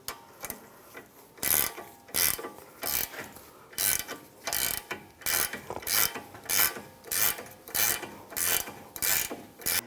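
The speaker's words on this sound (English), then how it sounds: "The 7mm socket is going to hold the stud from spinning as you tighten it down." Socket wrench ratcheting rhythmically while tightening a rear sway bar link nut on a 2011-2019 Ford Explorer, repeated close bursts of clicking with short pauses between strokes.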